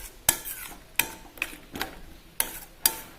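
Tomato chammanthi is stirred in a pan with a spoon in sharp, irregular scraping clinks, about six strokes, close and fairly quiet, with a soft sizzle between them.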